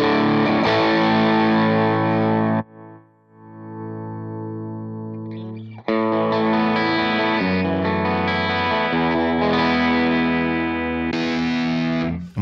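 Electric guitar played through the chime amp model of a Line 6 POD Express, loud sustained effected chords with a brief quieter passage, strummed alone without voices.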